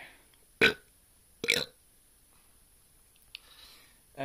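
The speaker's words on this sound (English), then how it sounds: "when I burp, that means that's a sign of a good beer" Two loud, short burps after drinking Zubr beer, the first at a moment and the second about a second later, with a faint click and a small noise near the end.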